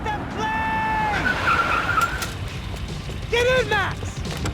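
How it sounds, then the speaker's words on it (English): Car driving and skidding in the video game Max Payne 3, with long tire squeals sweeping up and down over a steady engine roar, a second squealing skid near the end, and voices shouting under the driving noise. "just drive the fucking car!"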